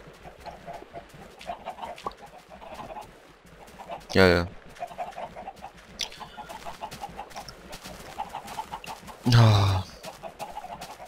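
Chickens on a Minecraft chicken farm give two loud, close bursts of clucking and squawking over steady game background noise, with a man making brief sounds in between.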